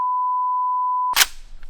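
A loud, steady electronic shot timer tone holds for about a second, then cuts off into a sharp burst of noise.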